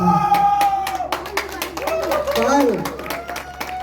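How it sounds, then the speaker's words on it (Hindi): Audience applause for an elderly mother at a family program: scattered claps and crowd noise running under loud, ongoing talk from a voice. "जोरदार ताली एक बार माता जी के लिए"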